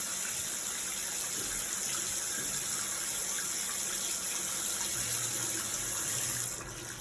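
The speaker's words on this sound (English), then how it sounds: "He's going to turn the faucet off with the towel." Water runs steadily from a faucet in a continuous close-up gush, then eases as the tap is turned off with a towel right at the end.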